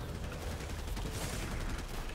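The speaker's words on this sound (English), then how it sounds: "That was an explosion!" An explosion in an online multiplayer video game rolls out as a dense, loud rumbling crackle that fills the whole moment with no pause or talk.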